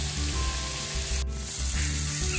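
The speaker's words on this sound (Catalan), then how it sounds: "Comencem la recepta fregint totes les patates." Potatoes and onions fry in a pan with a steady, close sizzle and crackle, broken by brief spits and a quiet stirring scrape.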